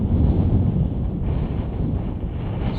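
Strong wind buffets the microphone on Stanage Edge, a continuous low rumbling roar with gusty swells throughout.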